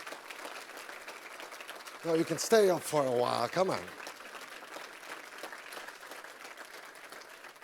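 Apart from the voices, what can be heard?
audience applause for a filmmaker at a festival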